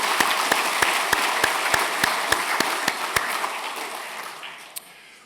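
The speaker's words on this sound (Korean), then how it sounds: "큰 박수로 환영하겠습니다." Applause welcoming new members at a Sunday church service, a congregation clapping with a few loud, regular close claps standing out over the wash before it fades away.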